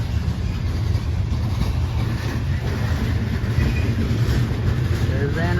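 A loaded CSX coal train begins to roll, giving a steady, close low-frequency rumble of heavy rail cars and locomotive that stays even throughout, with faint squeals near the end and occasional talk over it.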